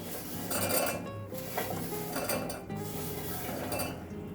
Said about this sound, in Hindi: अब इसमें हम शक्करपारा को डालेंगे।